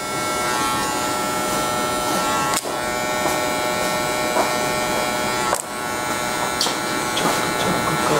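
An electric hair clipper cuts hair for a modern mullet haircut, giving a loud, steady, close-up buzz that runs without a break and dips briefly twice as the blade shifts position.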